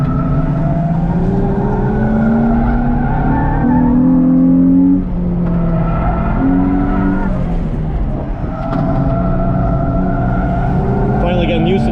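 Loud, continuous car engine roar on a race track at a Lime Rock track day, rising and falling in pitch as it revs through gears, close and dominant, with faint talking underneath.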